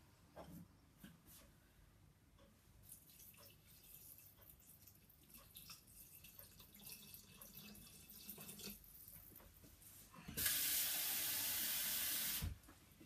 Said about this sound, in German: Jetzt kommen dazu und zwar 700 Gramm Wasser.